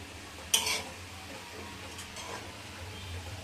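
Carrot halwa stirred in ghee in a pan, with a single sharp clink of the utensil against the pan near the start, then a soft, steady scraping under a faint background hum.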